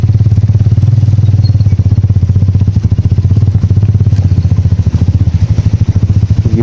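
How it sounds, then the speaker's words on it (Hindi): A motorcycle rides in first gear along a snowy, rough road after heavy snowfall, its engine chugging loud and close in a fast, even pulse with faint rattling throughout. "मैंने बाइक को पहले गियर में शिफ्ट कर दिया"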